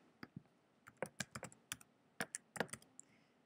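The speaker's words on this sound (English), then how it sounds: "At this point, you're going to type in your username" Crisp, close keystrokes on a computer keyboard as a username and password are entered, tapping in uneven bursts and short pauses over a quiet room, no voices.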